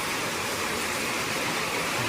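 Steady, dense broadband hiss of heavy rain pouring continuously, with no breaks or voices.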